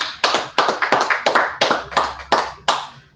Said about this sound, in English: All right, everybody clap it up.